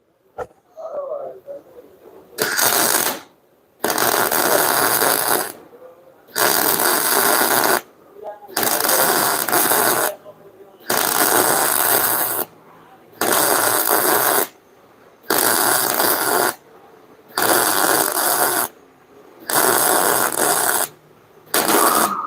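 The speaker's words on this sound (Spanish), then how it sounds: "Ahora voy a soldarle ese perno al tubo." Arc welding a bolt onto a steel tube in a workshop, heard as repeated bursts of crackling buzz, each a couple of seconds long, separated by short silent pauses, close and steady with no talk.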